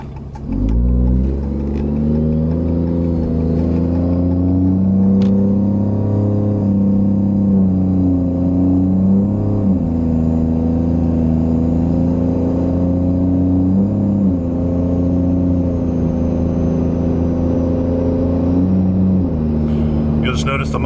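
A Ram 2500 pickup with a gear swap from 3.42 to 4.30 ratios accelerates through its gears, a loud, steady engine drone rising in pitch with brief dips at each shift, a voice talking over it throughout.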